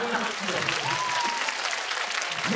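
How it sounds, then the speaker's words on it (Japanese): Applause from a small crowd at an anime character greeting event, steady and moderately loud for the whole stretch, with voices and a short whistle-like tone mixed in. "あなんかもうちっちゃい拍手が"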